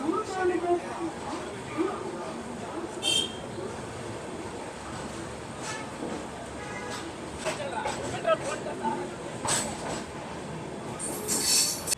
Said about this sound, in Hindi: निर्धारित समय से 10 मिनट की देरी से अपनी राजधानी एक्सप्रेस निकल चुकी है बेंगलोर रेलवे स्टेशन से।